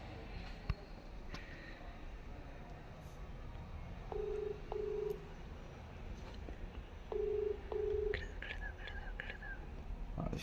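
A phone call is being placed: two pairs of short electronic dial-style tones sound in the middle and again near the end, over a steady low room hum with faint scattered background noise.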